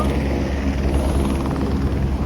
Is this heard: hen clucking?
no